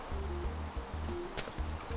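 Ocean waves in the block-building game Minecraft, a steady washing surf that rolls on continuously, close and fairly loud, with some light clicking game sounds on top.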